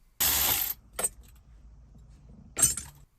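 A slotted aluminum clip piece is pulled from a Gen2 Raptor dash tray, giving a sharp metallic rattle and clink near the start, a small tap around one second and another brief clatter near the end, with quiet between.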